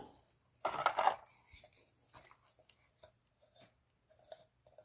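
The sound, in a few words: screwing a camping stove onto a gas canister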